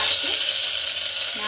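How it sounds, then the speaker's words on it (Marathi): Mustard seeds crackle and sizzle in hot oil, giving a steady, close frying hiss throughout with brief faint voice fragments underneath. "ते तेल चांगलं कडकडतं आपलं। आता मोहरी टाकली"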